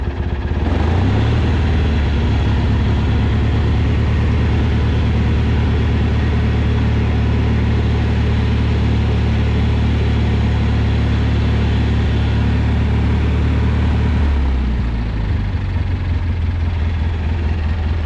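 Vintage Craftsman garden tractor engine pulling uphill at near idle, a steady low, even drone held close and loud for about fourteen seconds before the revs drop away.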